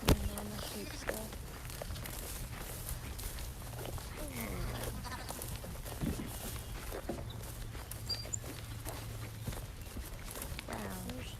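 Sheep grazing in an open field give occasional bleats amid soft footsteps and rustling, while a person talks over them throughout.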